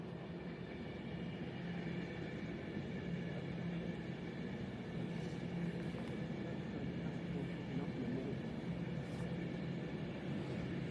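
An Avanti West Coast Class 390 Pendolino from Manchester Piccadilly to London Euston rushes past Stechford on the West Coast Main Line, a steady broad roar of wheels and rail noise holding at even loudness throughout.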